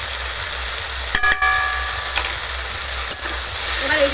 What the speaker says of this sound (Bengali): একটু কষিয়ে নেব সমস্ত মশলার সঙ্গে ভালো করে